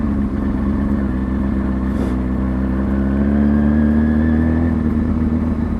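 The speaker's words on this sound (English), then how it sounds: "Let them revs just drop" A motorcycle engine idling and settling as the throttle is eased off during slow-speed riding, a steady close mid-pitched hum with a slight dip in revs partway through.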